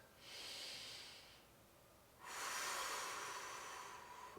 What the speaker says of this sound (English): Again, big inhale, big exhale.